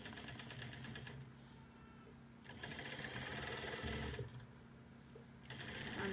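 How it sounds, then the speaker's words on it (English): Sewing machine running steadily as it stitches a quarter-inch seam on a fabric bucket bag with a drawstring, a continuous mechanical whir that surges slightly louder in bursts, close and alone. "I'm going to stitch this at a 1/4 inch."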